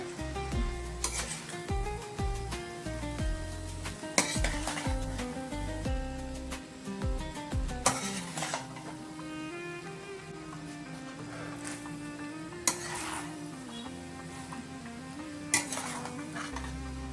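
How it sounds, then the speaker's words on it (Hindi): Maggi noodles and lettuce are stirred in a frying pan, with steady scraping and clinking of a utensil against the metal pan under a soft sizzle, plus occasional louder knocks, close up and without talk. "ये मैगी ऐड कर देंगे। अभी में अच्छा से मिक्स करेंगे।"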